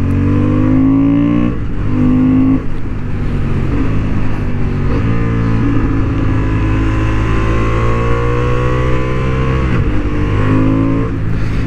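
A Honda Hornet 750 motorcycle accelerates hard on a racing track, its engine note rising through the revs and briefly dropping at gear shifts, loud and close, with wind noise throughout.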